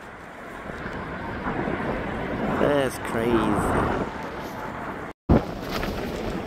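Steady low wind rumble buffets the microphone throughout in Chicago, with someone speaking briefly over it and a short dropout near the end.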